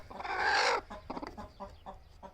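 A hen in a coop with nesting boxes gives a loud, drawn-out squawk and then a run of short, close clucks.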